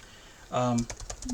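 Keys clatter on an old, sticky computer keyboard in a quick run of light taps, close and fairly quiet, right after a short burst of speech.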